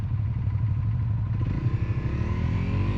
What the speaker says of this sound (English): Obviously not used to riding adventure bikes on this kind of road.